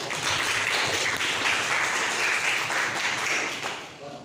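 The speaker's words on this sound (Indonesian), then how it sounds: "Tepuk tangan untuk kelompok 3" A classroom of students claps for a discussion group, a dense, steady burst of applause at close range that holds evenly and then tapers off toward the end.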